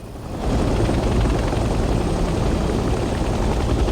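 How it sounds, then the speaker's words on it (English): A helicopter flies in the Vietnam-era war game Hell Let Loose: Vietnam, its rotor and engine giving a loud, constant, close thudding drone that swells slightly after a quieter start and holds steady. "Let's get familiar with the 3 primary helicopter rotations: pitch, roll, and yaw."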